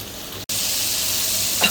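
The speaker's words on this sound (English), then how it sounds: "we're going to add 2/3 of a cup of that beer" Beer poured into a hot pan for pretzel bombs breaks into a sudden, loud, steady sizzle after a brief silent gap, hissing evenly with no voices.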